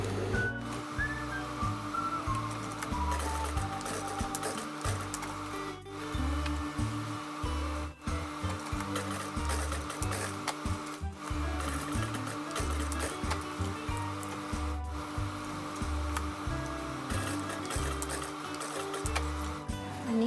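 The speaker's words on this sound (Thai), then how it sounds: "เดี๋ยวเราก็เย็บหูกลับเหมือนเดิมนะคะ" A sewing machine stitches a waist loop back onto a Youth Red Cross skirt, running as a steady, close motor whir with a rapid rhythmic needle chatter for the whole stretch, with no talking.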